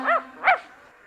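Two sharp dog barks in quick succession, close and clear, from dogs downstairs in a Haryanvi film scene.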